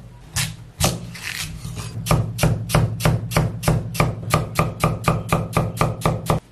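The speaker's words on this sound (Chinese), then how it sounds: "去皮后的土豆改刀切成片" A knife chops peeled potatoes into slices on a cutting board in a steady, rapid rhythm of sharp, close thuds, about two strikes per second, with no talking.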